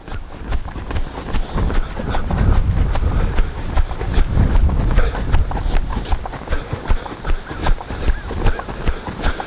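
A half-draft mare's hooves clip-clop steadily and close during a ridden training session, a continuous rhythmic beat of strikes with some breathing and tack noise mixed in.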